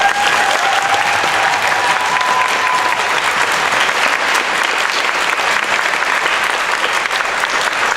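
A school festive concert audience gives sustained, loud applause for the accompanist, an even wash of clapping from a large crowd, with a faint whistle early on.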